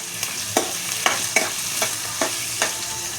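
Onion with green chilli sautéing in a pan, a low steady sizzle broken by several sharp spatula scrapes and stirring knocks at uneven intervals, close and clear, no voices.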